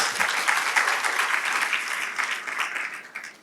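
A congregation at a church service breaks into sustained, even applause, a close wash of many hands clapping that holds steady and tapers slightly near the end.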